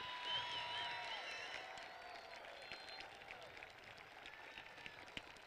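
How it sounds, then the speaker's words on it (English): Graduation audience applauding teachers and staff at the 2015 Desert View ceremony, a steady wash of many hands clapping at moderate distance, thinning slightly as it goes on, with crowd murmur underneath. "Parents and students, please help me give them a well-deserved applause for their hard work and support."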